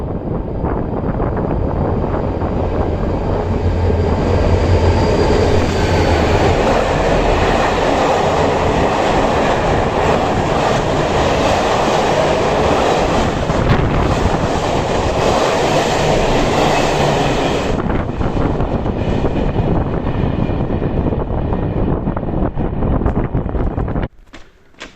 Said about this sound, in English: a train from Fez to Taza passes by.